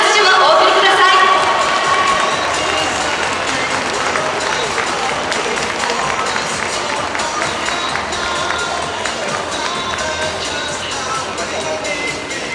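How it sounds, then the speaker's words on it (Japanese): Stadium crowd applause after a J1 league football match against Hokkaido Consadole Sapporo, a broad, steady wash of clapping and crowd noise filling the stands, loud and continuous throughout. "佐々木翔選手にもう一度大きな拍手をお送りください。"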